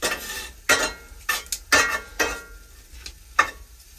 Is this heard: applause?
no